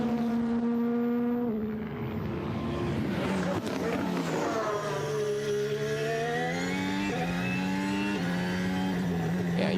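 A Formula 1 car at the 2023 Hungarian Grand Prix qualifying screams past with a high-pitched engine whine that falls in pitch as it goes by, then revs up through gear changes, loud and close.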